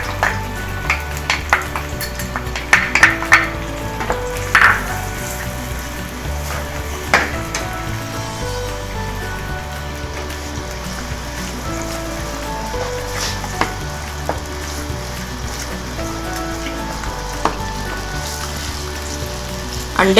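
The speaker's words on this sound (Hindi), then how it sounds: "घी में हम प्याज शामिल कर रहे हैं। इसमें सारे पिसे हुए मसाले जाएंगे" Onions frying in ghee with ground spices for nargisi kofta, a steady close sizzle and crackle running throughout with a few stirring clinks, no talking.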